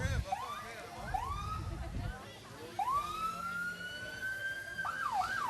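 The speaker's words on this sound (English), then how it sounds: "And they got good loud sirens also." Emergency vehicle sirens wail in a street parade at a pepper festival, rising and falling in long sweeps with quick yelps at the end, heard at moderate distance under crowd noise and talk.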